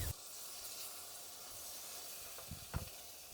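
Chili oil hissing softly in a pan as it heats, a steady faint sizzle with a couple of brief louder crackles near the end, no voices.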